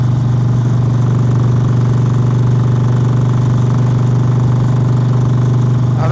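A Harley Sportster motorcycle engine runs on a cold ride, a loud, steady, low throbbing drone held evenly throughout with no pauses.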